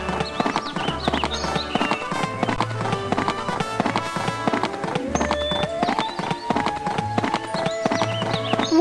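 Steady horse hooves clip-clop in a Barbie Riding Club video game, an even trotting rhythm that runs the whole time over background game music.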